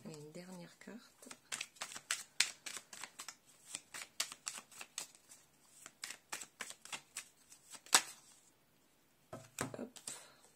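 Tarot cards being shuffled and dealt, a rapid run of crisp riffling flicks and slaps close by, with a last card drawn and a couple dropping near the end; a voice speaks briefly at the start.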